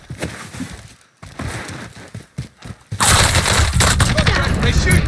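Video game gunfire rattles in rapid bursts and scattered single shots, with a dense, loud volley of fire in the latter half, while players talk over it.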